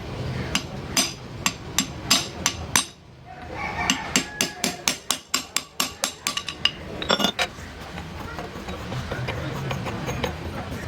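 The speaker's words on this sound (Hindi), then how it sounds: "इसे हम इस तरह से चोट देंगे हल्का हल्का, तो ये जो ये नट है ये इस तरह घूमेगा।" A steel shaft taps the nut of a bottle pump in rapid, sharp metallic strikes, coming in several bursts of evenly spaced clinks, close and loud, with a brief pause between runs.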